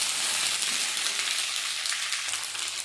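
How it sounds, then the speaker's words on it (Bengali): Ginger paste sizzles steadily in hot oil with vegetables in a pan, a close, continuous bright frying hiss with faint stirring and no talking. "ছোট চামচ দিয়ে একটু ভালো করে আদাটাকে সবজির সঙ্গে একটু ভেজে নেবো"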